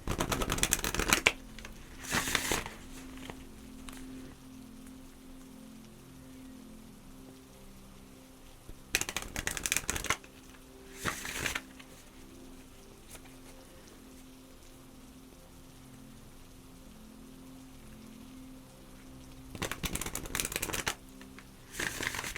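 Oracle cards are shuffled in short rustling bursts, several brisk riffles spaced apart with quiet pauses between, soft and close in a hushed setting.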